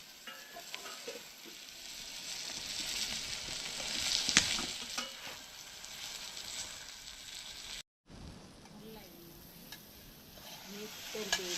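Cabbage with salt and spices being stirred in a pan, a steady close sizzle broken by scraping stir strokes, with a brief dropout partway through and no talk.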